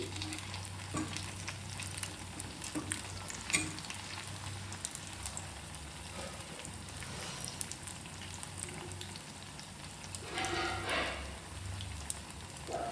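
Sabudana vada deep-frying in hot oil while being stirred and turned, giving a steady close crackling sizzle with occasional sharper pops and scraping stirs, no voices.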